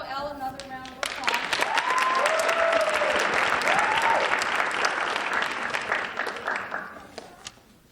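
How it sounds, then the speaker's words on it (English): A crowd applauds steadily for several seconds, with a few voices calling out over the clapping before it fades away. "Please give Joelle another round of applause."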